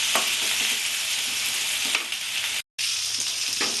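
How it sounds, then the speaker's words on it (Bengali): Pointed gourd (potol) frying in a pan, a dense, loud, steady sizzle with a few stirring scrapes, briefly cut off by a short silent gap before resuming. "পটলটা আমি খুব সুন্দর করে ভাজবো"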